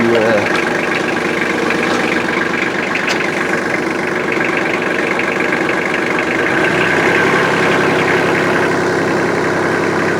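A tractor engine runs steadily while pulling a Farm Maxx mini round baler through thick windrows of first-cutting hay in low-range first gear, a loud continuous drone with rhythmic mechanical chatter and a slight change near the end.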